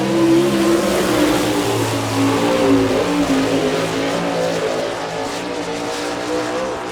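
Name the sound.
sprint race car engine running a lap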